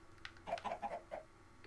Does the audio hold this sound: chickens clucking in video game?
yes